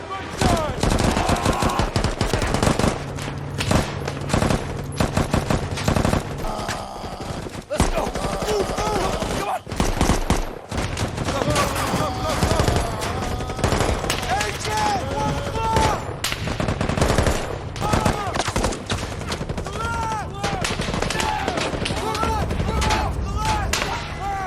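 Dense gunfire rattles through a Navy SEAL war film as automatic bursts and single shots crack repeatedly over a tank evacuation scene, with a narrating voice faintly under the shooting.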